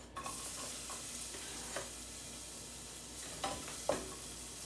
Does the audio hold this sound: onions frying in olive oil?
yes